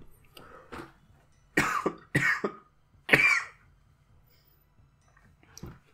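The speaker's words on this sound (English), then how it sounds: "all this talking is just setting off my cough" Several harsh coughs in a short burst, close and fairly loud, separated by brief pauses with quieter throat noises before and after.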